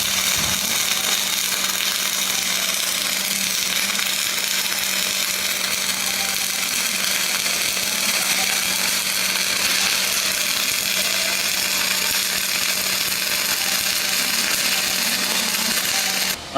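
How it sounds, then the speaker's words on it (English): Dual shield flux core welding side passes, a steady loud crackling hiss running unbroken the whole time with a faint low hum beneath. "we put our 2 more side passes in"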